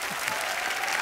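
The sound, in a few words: studio audience applause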